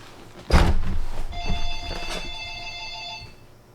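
After a sudden thump, a telephone rings with a sustained electronic trill that holds at steady volume for a couple of seconds before fading.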